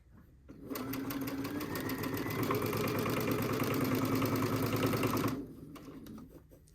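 A sewing machine runs in one continuous burst, stitching quilt sashing strips right sides together along a quarter-inch seam, a close, even mechanical whir lasting about five seconds before stopping, with no talk.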